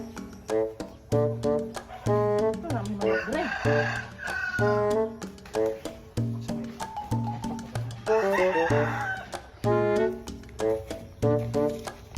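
Chickens cluck repeatedly nearby, with a rooster crowing a couple of times amid the steady clucking chatter.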